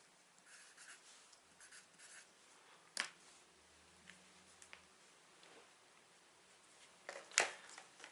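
A pencil scratches numbers onto a sheet of paper in short quiet strokes, with pauses between, plus a couple of sharp taps and clicks near the end of an otherwise hushed room.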